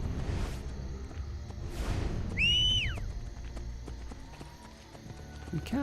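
Rhythmic hoofbeats of a galloping horse in Assassin's Creed Brotherhood video game, fairly close, with a short whistle-like tone in the middle and a faint whinny near the end.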